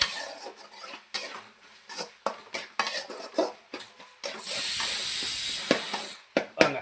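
Masala with tomato sautés in a pan for a goat-head pepper fry: a steady sizzle and hiss with repeated clinks and scrapes of a spoon stirring against the pan, close and alone.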